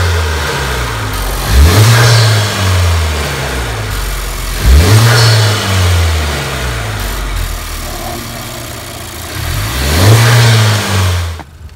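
A tuned 2018 Civic Type R engine is blipped three times, each loud rev ending in a turbo blow-off valve's hissing release, heard close with no talk.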